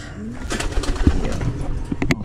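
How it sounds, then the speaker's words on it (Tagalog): Pigeons in a loft coo softly nearby, with a few low throaty calls and some faint rustling and movement around them. "Beautiful birds."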